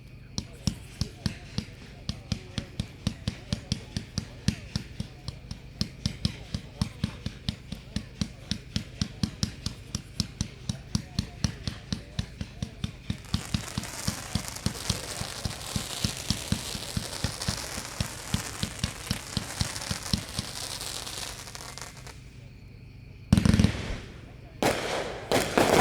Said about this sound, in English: Number 7 is Tropical Chaos by Hog Wild, packed 4-1, 92 shots.